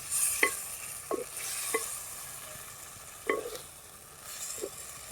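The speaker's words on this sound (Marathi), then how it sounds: "आपण आता हे वांगी परत परतून घेणार आहोत" A spatula scrapes and stirs boiled eggplant in a pan, a few distinct clacks spaced out over a soft, steady sizzle.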